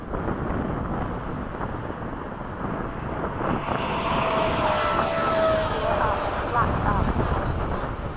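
Jet engines of F-5 aircraft roar during a formation takeoff, a loud, dense, continuous rumble with a rising whine. A voice counts down over the noise.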